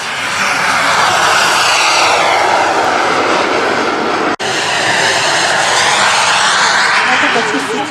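A loud, steady roar of a jet aircraft engine passing close by, filling the whole clip with a brief dropout midway, with voices faintly underneath.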